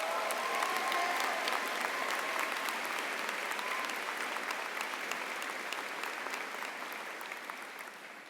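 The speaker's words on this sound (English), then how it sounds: "Can we just give her one more round of applause?" A large commencement audience at the Denison University Class of 2026 ceremony breaks into sustained, dense applause that fills the hall, holding steady before slowly tapering off toward the end.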